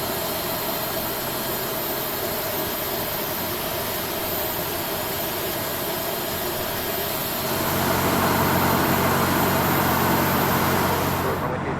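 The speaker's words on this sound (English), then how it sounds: "Starting engine 2." An airliner engine spools up in the Prepar3D flight simulator, a steady broadband roar and whine that grows noticeably louder partway through as engine 2 starts during pushback.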